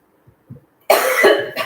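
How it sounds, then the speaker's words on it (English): A person coughs in a sudden loud, harsh fit lasting most of a second, preceded by a few faint low thumps, with no talk. "Apparently my coughing scares him."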